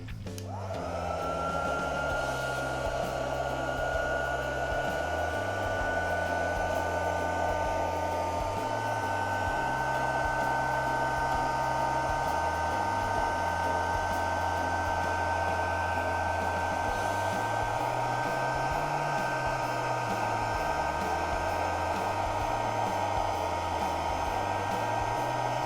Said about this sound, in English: using the heat tool, you'll want to just go over it at a distance of a couple of centimetres away